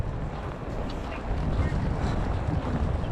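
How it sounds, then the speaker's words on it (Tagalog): Strong wind roars steadily during a snowstorm in Canada, buffeting the microphone outdoors in a dense, continuous rush that grows louder halfway through. "Mahangin na, bumuhos yung snow."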